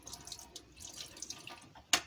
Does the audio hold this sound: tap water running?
yes